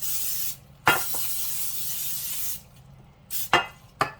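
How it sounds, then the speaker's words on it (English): Cooking spray hisses onto a baking pan in several bursts, one long spray followed by shorter puffs, close and crisp with quiet gaps between. "to prepare the pan, you want to spray it, get all the sides and the bottom really well"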